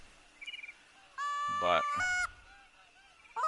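Geese honk loudly in a burst of overlapping calls during a duck and goose hunt in the Hirschfelden reserve of a hunting video game, with fainter earlier calls and a final honk at the end.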